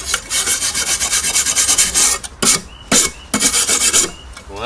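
A wire brush scrubs rust off a metal garden tool in fast rhythmic back-and-forth strokes, harsh and close, breaking into a few separate scrapes near the end.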